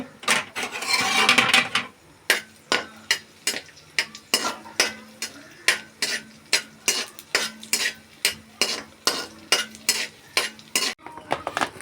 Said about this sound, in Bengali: প্রথমে কড়াই ঘি দিয়ে দিচ্ছি। এখানে কাজু বাদাম কিশমিশটা হালকা করে ভেজে নেব।